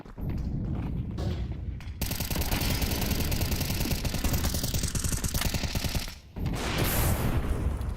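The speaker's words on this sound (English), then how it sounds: "40 bullets downrange towards top middle, and nothing to really show for it" Long spray of rapid automatic gunfire in Counter-Strike, about 40 bullets fired in a dense continuous rattle, loud and steady for several seconds with a brief gap before another burst resumes.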